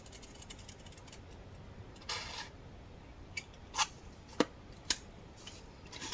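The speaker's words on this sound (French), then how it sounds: "avec le ciseau, donc de cette entaille, on vient couper de la pointe ici" Scissors snipping paper strips, a few sharp isolated cuts spaced apart against a quiet background.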